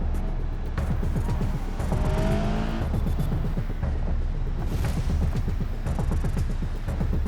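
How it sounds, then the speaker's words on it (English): Roamer SUV driving in BeamNG, a steady close engine drone and road rumble running without a break, with faint whirring and no talk. "Anthony was driving his Roamer all over the East Coast."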